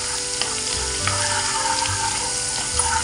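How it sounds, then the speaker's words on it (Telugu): Garlic paste frying in hot oil for fish pulusu, a loud continuous sizzle with occasional scrapes and clinks of stirring over a low background hum. "దీంట్లోకి ఎల్లిపాయల పేస్ట్ వేసుకుందాం. వేసుకొని ఇలా కలుపుకోవాలి."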